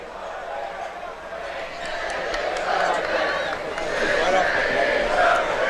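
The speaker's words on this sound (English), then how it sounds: "They are now booing every time he touches the ball." A football crowd boos a player during a Portland Hearts of Pine versus Halifax Wanderers friendly, a broad sustained jeer swelling louder over several seconds.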